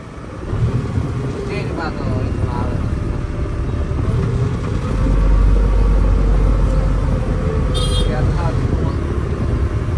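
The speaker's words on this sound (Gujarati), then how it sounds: "યાર લવાણામાં ટ્રાફિક થવા માંડી છે." Road traffic noise in Lavana, a steady rumble of passing cars and motorcycles that swells louder midway through, with people talking over it.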